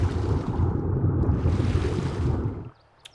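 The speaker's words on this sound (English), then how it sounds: "My god, that water is actually, like, super loud." Loud water in the survival game Ark Survival Ascended, a steady roaring rush of waves and spray that fills the space for nearly three seconds before cutting off abruptly to near silence.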